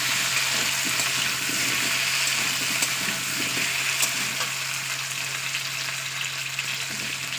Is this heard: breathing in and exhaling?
no